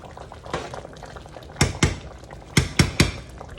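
A pot of tomatoes, corn and okra boils on a stove, with a steady close bubbling and several sharper pops and splutters bursting through near the end.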